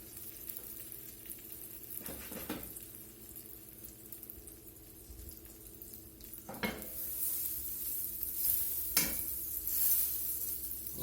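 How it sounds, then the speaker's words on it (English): Butter melts in a hot skillet with a soft, quiet sizzle, joined by a few louder scrapes and knocks of stirring. The sizzle grows a little brighter toward the end. "I got a skillet heating up here. I'm going to add some butter."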